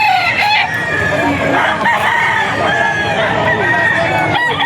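A Spartan black gamecock crows repeatedly at a busy auction market, its loud calls rising over crowd noise and nearby speech, with other fowl clucking in the background.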